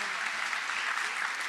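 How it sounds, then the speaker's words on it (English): An audience at an eighth grade promotion ceremony applauds for the school principal, dense steady clapping from many hands filling the room throughout. "Give Miss Vincent a Principal Vincent a round of applause."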